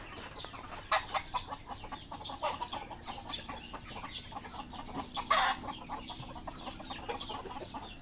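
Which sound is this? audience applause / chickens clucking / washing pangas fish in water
chickens clucking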